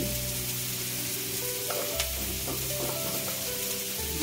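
Onions sizzle steadily in hot oil for bitter gourd sabzi as a pinch of asafoetida goes in, with a close, continuous crackling fry and a few brief stirring scrapes, no voices.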